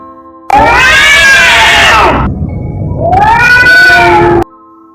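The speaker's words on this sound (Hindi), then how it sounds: "बिल्ली की इस अचानक आवाज़ ने मुझे और भी ज़्यादा खौफ में मुब्तला कर दिया।" A loud, drawn-out cat meow, then a second wailing meow after a short pause, close and piercing.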